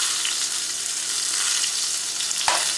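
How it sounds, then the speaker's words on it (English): Delicate mushrooms sauteing in a very hot pan give off a loud, steady sizzle and crackle throughout, with a brief stirring clatter near the end and no talking. "let me pour these delicate mushrooms into the pan. I'm going to saute them"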